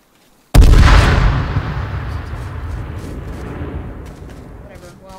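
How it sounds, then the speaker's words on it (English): A grenade blows up in the survival shooter H1Z1, a single loud, sudden blast that cuts in after a moment of near silence and then rolls off into a long, rumbling decay. "That was a good nade."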